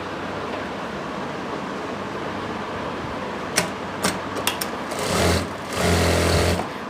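Sewing machine running a seam along the full length of a palazzo pant, beginning with a few short bursts of stitching and then settling into a longer steady whirring run, loud against low background hiss.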